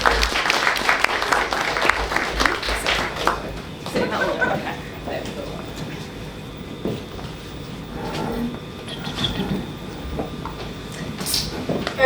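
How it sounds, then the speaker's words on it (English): Audience applause welcoming a panel at a data engineering talk, dense clapping strongest at the start and thinning into scattered claps over several seconds, with a voice speaking over it. "Give a round of applause, please."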